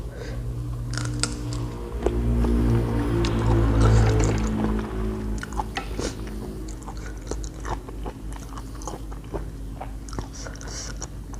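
Close, crunchy biting and chewing of spicy papaya salad with pickled shrimp and pickled field crab, steady and wet, running continuously with no talk.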